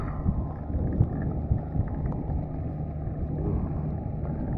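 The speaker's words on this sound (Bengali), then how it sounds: "এটা ক্যাম্বেল বে জাহাজ বন্দর।" Ship port ambience at Campbell Bay harbour, a continuous low rumble of vessel engines and water with wind buffeting the microphone, steady and fairly loud, no clear voices.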